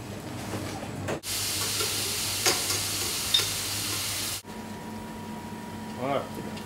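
Strips of lamb sizzle loudly in hot oil with stirring and scraping, the frying hiss steady and close, cut briefly by pauses.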